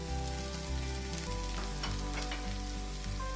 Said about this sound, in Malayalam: ഇതെല്ലാം കൂടി നമുക്കങ്ങ് ഇളക്കി കൊടുക്കാം.